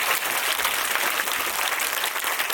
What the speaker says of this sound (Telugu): మళ్ళీ ఇంకొకసారి గట్టిగా డైరెక్టర్ గారికి క్లాప్స్ కొడదాం